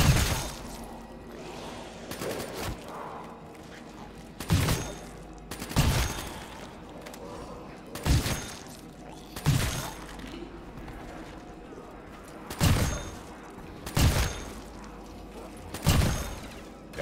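A Death Machine minigun fires in Black Ops 3 custom zombies on the Mt Seela map, with loud, rapid bursts repeating roughly every two seconds over a steady game-ambience background.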